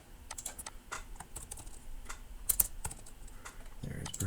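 Keys clatter on a computer keyboard in quick, uneven taps, close and moderately soft, with a few louder keystrokes scattered through.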